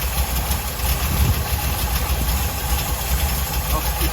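An engine that has sat unused for six months idles steadily at its first start-up, a continuous mid-to-low rumble with faint knocking.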